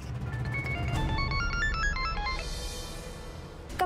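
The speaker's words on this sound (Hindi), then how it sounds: "कब से मैं तुम्हें फोन ट्राई कर रही हूँ सिद्धार्थ, कहाँ हो?" A bright electronic phone ringtone plays a repeating melodic pattern of beeping tones over a low background hum, fading out near the end.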